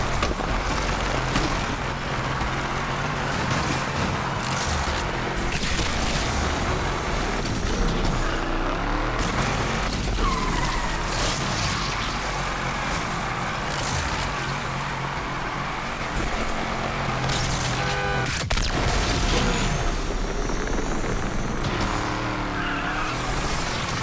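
A car drifts in NFS Unbound, its engine roaring steadily while tires squeal and skid through long continuous slides, loud and close with no break.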